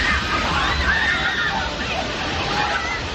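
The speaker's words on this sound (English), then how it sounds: "you will definitely get wet standing over here in the splash zone" Water from a theme park water ride at Universal Orlando crashes and sloshes heavily onto the splash zone, a loud, continuous rushing spray with crowd noise underneath.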